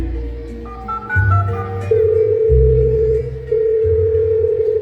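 A phone call's ringing tone plays as a clear electronic melody of stepped tones, then settles into long sustained beeps. It sounds loud and close, with no voices over it.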